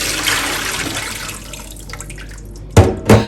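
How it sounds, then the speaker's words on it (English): Tap water running in a kitchen sink while cowskin is rinsed for a Ghanaian stew: steady splashing flow that thins out, then two loud close splashes at the end. "rinse it for about 2 times with clean tap water"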